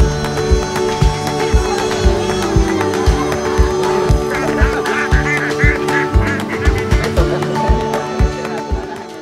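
Ducks quack and honk loudly in a pond during a duck-catching contest at a cultural festival in Parepare, a dense, rapid chorus of repeated calls mixed with splashing and crowd noise.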